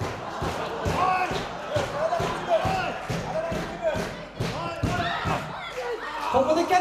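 Wrestler's body slamming onto the ring mat during a Cat Bump off the top rope in a pro wrestling match, a run of loud, heavy thuds in irregular rhythm under excited commentary and crowd noise.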